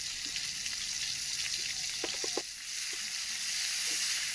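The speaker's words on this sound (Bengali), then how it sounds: "তেলটা সামান্য গরম হয়ে আসতেই এর মধ্যে দিয়ে দিলাম 2টো কাঁচা লঙ্কা আর কেটে রাখা পেঁয়াজ।" Two green chillies and chopped onion fry in hot mustard oil in a wok, giving a steady close sizzle with a few sharper spits and pops partway through.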